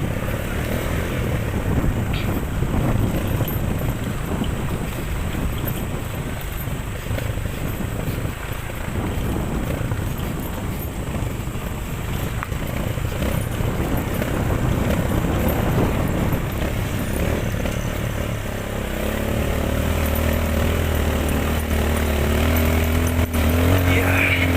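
A motorcycle climbs a hill road in the Ulugawo hills of Nias, its engine droning steadily and loudly throughout, with wind rumble and a lower engine note toward the end.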